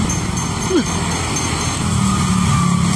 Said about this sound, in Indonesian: Itu ada mobil yang putih 1332